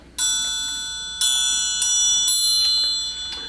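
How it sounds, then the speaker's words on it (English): A clock chimes four separate bright metallic strikes at roughly even intervals, each ringing on with a sustained tone, close and clear with no talking. "The clock will strike one."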